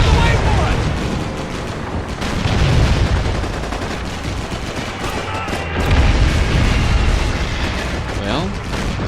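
Sherman tank cannons boom alongside crashing explosions and constant gunfire in Call of Duty 2, loud and dense throughout with heavy blasts near the start and middle, while voices shout over the battle.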